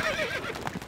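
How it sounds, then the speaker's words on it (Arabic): A horse whinnies and neighs loudly and close in the Stronghold Crusader video game, its high rising call followed by short hoof clatter, with no speech. "الفرس تعدو."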